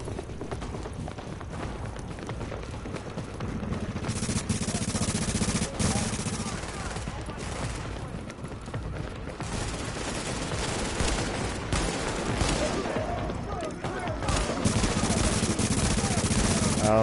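Gunfire aimed at someone in a game, repeated machine-gun bursts and scattered shots over a busy, continuous background with footsteps, moderately close; a voice is also present at times.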